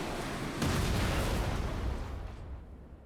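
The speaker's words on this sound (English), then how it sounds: "Okay, cannons." Cannons fire in the video game Lies of P, a deep booming burst that swells suddenly and then rumbles away over a couple of seconds, fairly quiet overall and with no talk.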